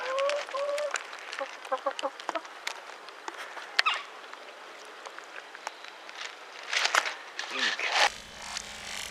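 Chickens cluck and squawk in short, scattered bursts, fairly close, with rustling and handling noise throughout and a louder flurry near the end.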